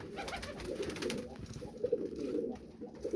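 Pigeons kept in pairs by a seller in Faisalabad coo softly and repeatedly in low, rolling calls, close by and steady, with no talking over them.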